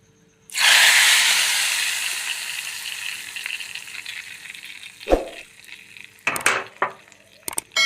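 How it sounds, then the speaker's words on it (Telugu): Oil bursts into a loud, steady sizzle as tempering spices hit the hot pan for a lentil and cucumber curry, slowly easing off, followed by a few sharp clanks of utensils near the end. "తాలింపు అయితే రెడీ అయిపోయింది తాలింపు వేసేద్దాం"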